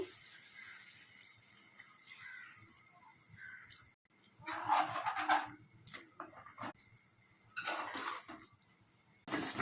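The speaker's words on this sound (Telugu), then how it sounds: "కొంచెం వాటర్ వేసుకోండి." Water splashes and pours into a pot of chicken curry in a few short bursts, with quiet kitchen clatter between them and no talking.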